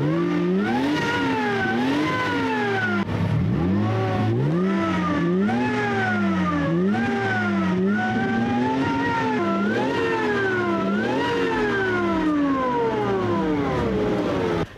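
A Lexus IS200 fitted with a Cobra exhaust system revs repeatedly, the engine note rising and falling in loud, close sweeps with a throaty drone between blips.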